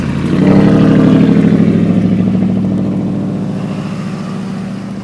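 A loud, steady turbocharged diesel Ford PowerStroke truck engine with a 64mm turbo kit rumbles with a deep throbbing pulse, holding near-constant then easing slightly, close by with no talking.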